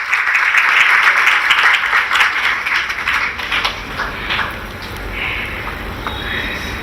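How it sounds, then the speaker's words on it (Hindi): Audience applause greets the start of a Ram Lala stage performance depicting child Ram and Kaushalya, with dense, loud clapping throughout that eases slightly toward the end. "जोरदार तालियों से स्वागत है आपका।"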